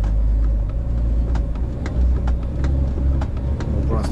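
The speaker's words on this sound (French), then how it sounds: "Hop, mettre un petit coup de gaz." A 44-tonne truck's engine drones loud and steady on a snowy road, a heavy low rumble that stays close throughout with small clicks and ticks on top.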